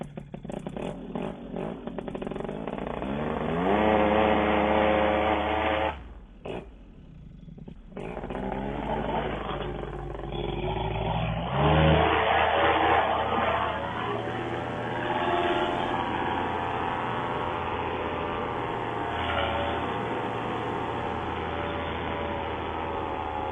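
A light aircraft engine drones loud and close through a takeoff from a downhill yard, dipping briefly before the roar builds again and holds steady with rattling clatter.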